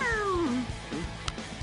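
A cat gives one long meow that slides downward in pitch, followed by a softer short chirp and a few faint clicks, close by and heard alone without speech.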